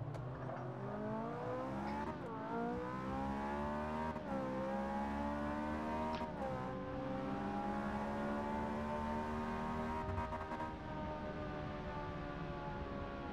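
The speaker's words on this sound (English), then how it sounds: "I do love the rev limiter." Simulated car engine in Forza 6 Apex, heard from the in-car view, screaming at high revs with repeated gear changes and a rising, stuttering note as it bounces off the rev limiter, loud and continuous with no talk.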